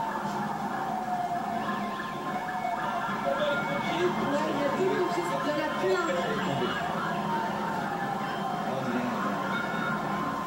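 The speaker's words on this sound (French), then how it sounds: "En ville, les sirènes des véhicules de secours résonnent." Emergency vehicle sirens wail steadily through a city in Israel, echoing continuously beneath a dense layer of street noise and faint voices.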